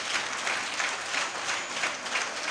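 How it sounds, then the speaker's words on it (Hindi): A seated crowd at a religious discourse gathering in a large tent applauds, a continuous even patter of many hands clapping in loose rhythmic waves. "जो ताली बज रही ना"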